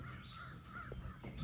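Crows cawing outdoors at dawn near a house with a bird feeder, several harsh caws repeating over steady background noise.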